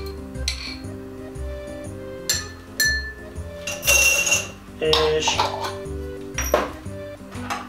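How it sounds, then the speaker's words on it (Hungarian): Olives crushed in a glass with a muddler while a martini-style cocktail is prepared: repeated clinks, knocks and scraping glassy taps at close range, with a low hum and brief speech in the background. "azok össze vannak nyomkodva kicsit madlerrel, nem kell túl sokat, csak épp hogy összetörjen az olívának a héja"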